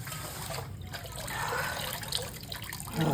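Water trickles and splashes steadily as it is poured over someone's hands, a soft continuous dribble heard close by at low volume.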